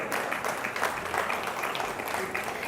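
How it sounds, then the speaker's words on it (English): Audience members at the NDTV Indian of the Year award ceremony applaud an honoree, producing a brief, steady burst of many hands clapping in a big hall at moderate loudness. "A huge round of applause for her."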